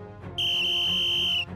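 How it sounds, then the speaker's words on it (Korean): A shrill police whistle, used as an effect in an audio drama, sounds once as a single steady blast lasting about a second, loud and close. "그들을 본 포레스터 경감도 즉시 창가로가 호루라기를 불었지."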